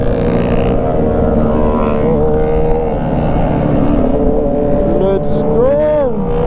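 A 2019 Yamaha R6 motorcycle with an Austin Racing exhaust runs on a road, its engine droning loud and steady throughout, with rising and falling revving tones near the end.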